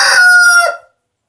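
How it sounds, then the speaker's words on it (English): A homestead rooster gives a single loud, close crow lasting under a second and cutting off sharply into silence. "he's standing right here looking right at me, crowing his tush off."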